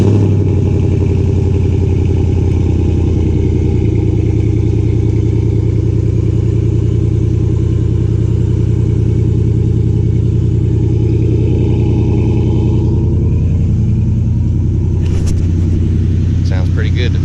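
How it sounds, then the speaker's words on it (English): A Jeep Wrangler YJ idles after a remote start, recorded close to the exhaust: a loud, steady low rumble holding even throughout, with faint clatter near the end. "Decent remote start here, close up of the exhaust."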